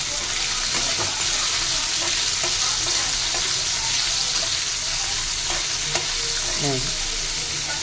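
Curry leaves, salt, coriander and asafoetida frying in hot oil for an ivy gourd pickle, a steady close sizzle with scattered pops and light stirring scrapes throughout, no talking.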